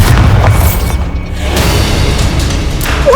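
Bombarda explosion spell in the game Hogwarts Legacy, a loud, close blast with a heavy, rumbling boom that sustains through the whole moment amid dense combat noise.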